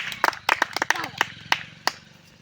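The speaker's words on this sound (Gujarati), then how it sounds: "તાળીઓથી ગળગળાટ કરો" About nine scattered handclaps greet the winner of an outdoor long jump challenge, uneven and close, with people talking over them.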